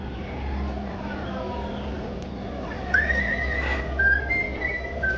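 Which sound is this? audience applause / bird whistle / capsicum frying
bird whistle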